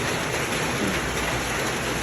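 Steady rain falls throughout, a dense, even hiss of drops on surfaces with no pauses, close and fairly loud, while fish is being cooked outdoors in the rain.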